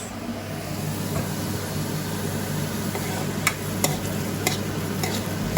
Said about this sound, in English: so now we have to saute these onions for around 2 minutes until they are transparent